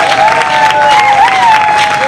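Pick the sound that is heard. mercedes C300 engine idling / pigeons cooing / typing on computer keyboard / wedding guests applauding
wedding guests applauding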